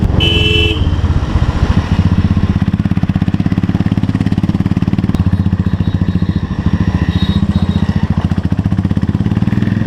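A Royal Enfield Continental GT motorcycle being ridden on a road, its engine a loud, steady thumping drone close to the microphone, with brief high honks near the start and no speech.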